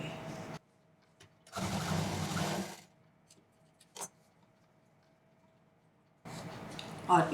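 A sewing machine stitches jeans fabric for a handmade shoulder bag, running in two short close bursts of buzzing with quiet gaps and a single sharp click between them.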